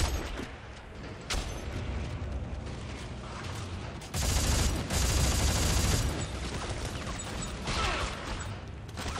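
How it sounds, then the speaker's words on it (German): Gunfire from necromorph enemies in the sci-fi horror game Dead Space 3, a dense crackling fusillade of rapid shots with mechanical clatter, loud and continuous and surging heavier midway. "Nein, das sind Necromorphs, die schießen."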